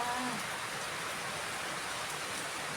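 Steady rain hisses down continuously, a dense even wash of falling drops with no voices.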